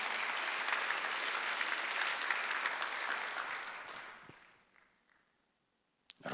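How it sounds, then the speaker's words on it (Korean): A church congregation claps steadily for several seconds during a Sunday sermon, the applause fading out into quiet before a faint sound at the end. "깨달은 사람만 박수해봐요."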